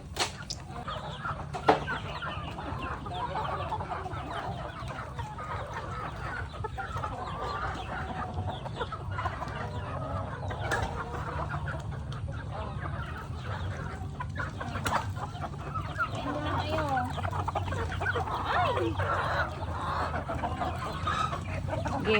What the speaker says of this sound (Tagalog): Itong mga manok na to.